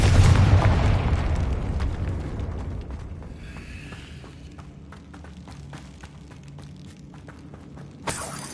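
A Confringo blasting spell detonates in Hogwarts Legacy, a loud rumbling explosion opening the clip and fading into a long crackling, debris-filled tail with scattered small pops and a brief burst near the end.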